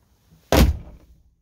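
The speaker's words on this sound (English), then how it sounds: "I'm going to close the door because it's really cold outside" The entry door of a Hymer B514 motorhome is pulled shut, giving a single loud, close thud that fades quickly in an otherwise quiet space.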